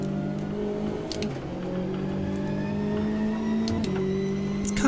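A race car engine in the racing sim Automobilista 2 drones steadily at high revs, with a couple of quick gear-shift dips, sounding smooth and continuous with no voices.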